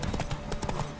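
A galloping horse in The Witcher 3 beats out a quick, even clip-clop of hooves, close and distinct, in a short burst with nothing else over it.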